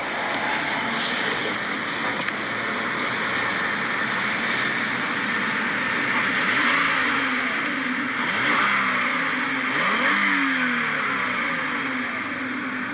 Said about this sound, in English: Very smooth V6.